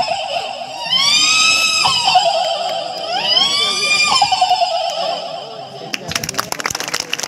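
A voice imitates a horse neighing: two long, quavering whinnies that rise and fall, close and loud, followed by a burst of sharp clicking or snorting noises at the end.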